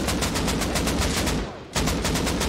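Rapid automatic gunfire in the survival video game Rust rattles out in a loud, steady stream of close shots, breaking for a moment before the burst resumes.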